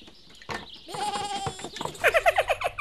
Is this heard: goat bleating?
yes